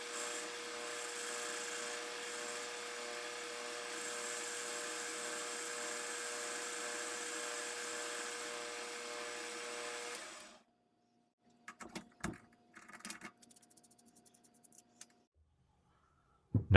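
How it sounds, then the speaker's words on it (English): Steady, continuous whir of a lathe spinning while the outside of a steel wad punch die is sanded, running for about ten seconds before stopping, followed by scattered clunks and handling noises. "I'm sanding instead of cutting the outside because I don't want to reduce the diameter any and potentially lose any strength."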